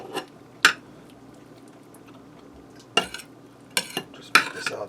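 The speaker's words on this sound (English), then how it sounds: "I'm going to take some of my roast beef and we're going to slice some" A knife slices tender roast beef, with a handful of sharp, separate clicks and scrapes against a board over a quiet background.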